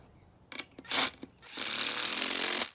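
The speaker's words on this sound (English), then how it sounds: "You then just need to pre-drill the hole." A power drill bores a pilot hole into lumber for a raised planter box, two short bursts followed by a sustained grinding whir of about a second, close and loud with no talk.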